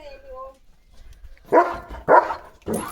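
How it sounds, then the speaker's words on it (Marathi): A dog barks at a flock of sheep in the evening, giving three loud, sharp barks about half a second apart after a quieter stretch of faint talk and background noise. "त्यांना बघून भुंकतोय आवाज येतोय"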